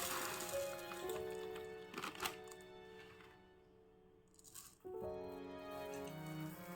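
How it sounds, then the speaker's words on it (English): Rice and thick poha get washed together in a vessel with water, producing soft wet squishing and pattering sloshes in bursts that pause near the middle, then resume, close and fairly quiet. "Let's wash everything together and we will soak this for few hours."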